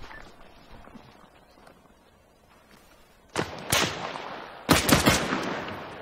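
Gunfire in the military video game ArmA 3 breaks out after quiet ambience, with a few sharp cracks followed by a tight burst of several loud rapid shots echoing away.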